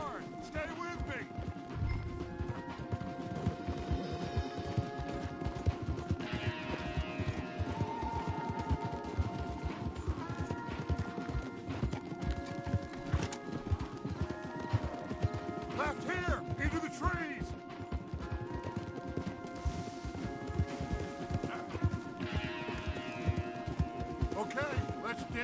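Horses gallop hard in Red Dead Redemption 2, with steady rapid hoof clatter and creaking tack under dense game music and ambience throughout, while voices speak over the ride.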